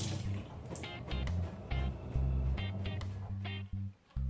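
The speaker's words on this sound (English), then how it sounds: "Then I'm gonna wash my hands." Hands are washed under a running kitchen tap while cooking Jamaican stew chicken, giving a close, fluctuating splash and patter of water with brief interruptions before the flow stops.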